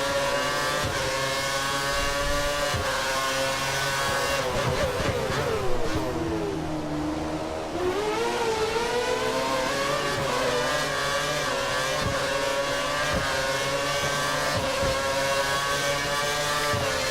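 Formula 1 race car from the F1 2013 game at the Shanghai circuit, engine droning loud and steady with rising and falling pitch as it accelerates through gears, a brief dip mid-way before climbing again.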